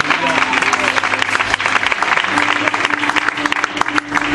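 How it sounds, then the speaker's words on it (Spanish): A church congregation claps loudly and continuously during a Spanish-language service, dense rapid applause filling the room with voices mixed in. "Dale un aplauso al Señor"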